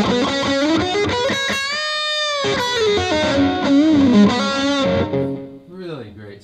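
A heavily distorted electric guitar plays sustained chords and bends through a Roland Cube 60 amplifier, loud and saturated, fading out at the end.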